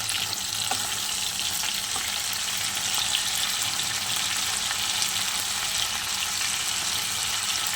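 Radhuni seeds sizzle in hot oil as a tempering for a tilapia curry, producing a dense, even hiss that stays loud and constant throughout, with no voices.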